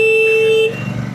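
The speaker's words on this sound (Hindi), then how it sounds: "देखो ये ट्रक आ रहा है, इतना हॉर्न मार रहे नीचे से" Truck horn blaring on a landslide-damaged mountain road between Gangtok and Lachung, one long loud steady honk that cuts off, leaving engine rumble and road noise.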